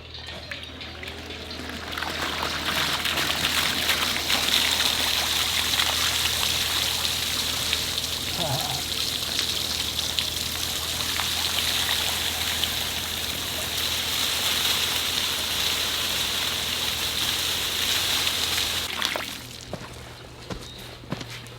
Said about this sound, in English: Well, he left a submersible pump right here.